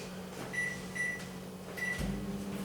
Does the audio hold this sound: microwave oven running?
yes